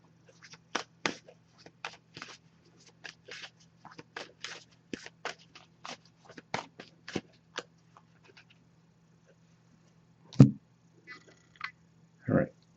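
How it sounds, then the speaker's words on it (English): Soft, irregular papery flicks and taps of tarot cards being shuffled and handled, close by, with short pauses and a low background hum. "so I'm just going to give this a few shuffles now"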